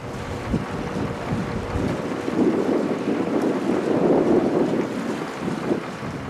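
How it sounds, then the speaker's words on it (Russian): A motorboat crossing the Izhma river, a steady engine drone under heavy wind buffeting and water wash that swells in the middle and stays loud throughout, with no talk. "сельчане переправляются с берега на берег Ижма на моторках на свой страх и риск"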